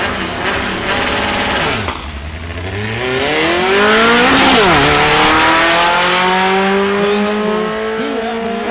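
A VW drag racing car blasts down the dragstrip at Mason Dixon Dragway during the VW Nationals, its loud engine climbing through gears in rising, sweeping whines with a brief dip at a shift, steady and close with no talk.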